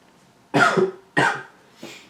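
Three sharp coughs in quick succession, close and fairly loud, the last one softer, in an otherwise quiet space.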